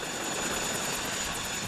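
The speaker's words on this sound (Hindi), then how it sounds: "ये क्या हुआ? वो हेलीकॉप्टर।" A cartoon helicopter flies past in an animated anime series, its steady rotor and engine drone loud and continuous throughout.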